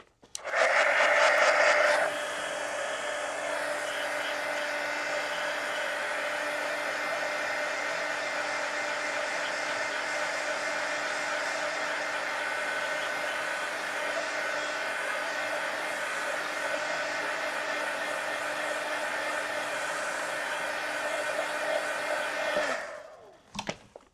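A hair dryer blows steadily on a sketch, close and fairly loud. The whine holds for about twenty seconds and then cuts off.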